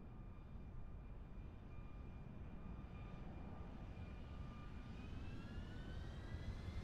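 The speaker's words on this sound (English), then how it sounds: "You hear the engines coming up?" Jet engines of a Boeing 737-8 in a flight simulator game spool up as a steady broadband roar with faint rising whine tones, a continuous moderate hum with no talk.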